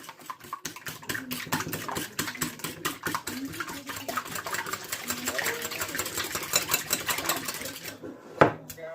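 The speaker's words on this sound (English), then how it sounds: "We'll give this a whisk." Three eggs being whisked in a bowl, a fast, steady run of rhythmic clicking strokes lasting several seconds, close and fairly quiet, ending with a sharp knock near the end.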